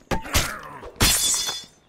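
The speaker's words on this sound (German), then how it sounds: "Jetzt schade, die Axt, dass die kaputt gegangen ist" A melee axe in the zombie game State of Decay breaks on impact, giving two loud, close crunching thwacks about a second apart, each with a brief shattering tail.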